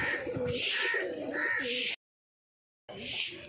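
Racing pigeons for sale coo and flutter close by in a loud, dense stretch that breaks into a gap of total silence before resuming.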